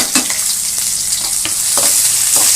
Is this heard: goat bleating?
no